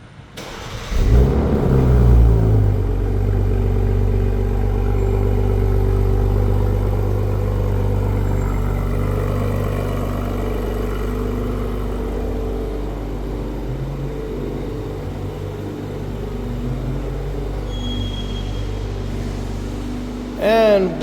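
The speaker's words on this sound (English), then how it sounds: "let's just do a little remote engine start, cold start" A 2026 BMW M440i xDrive Gran Coupe Exclusive Edition fires up by remote cold start, with a loud initial engine flare settling into a steady, deep idle that runs throughout, then a brief blip near the end.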